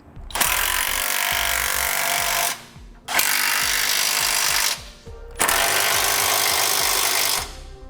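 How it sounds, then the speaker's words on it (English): A power tool tightens trailer hitch nuts with a 3/4 inch socket while a wrench holds the bolt, three long loud bursts of whirring and rattling hammering separated by short pauses, close and without talk. "We will use a wrench 3/4 of an inch to hold the bolt still while we tighten our nuts with a 3/4 inch"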